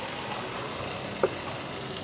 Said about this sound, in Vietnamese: Bây giờ cô đang làm món trứng chiên này cô ha.